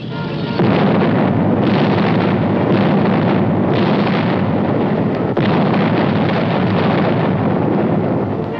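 Artillery fire from the WWII Allied invasion of southern France, a loud continuous roar with heavy booming rumbles and bursts that swell and fall, dense and distant-sounding, with no talk.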